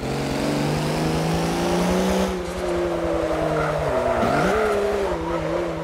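Race car engine in Forza Motorsport 7 droning loud and steady, with pitch shifting as the car shifts and brakes, tire squeal laid over it midway.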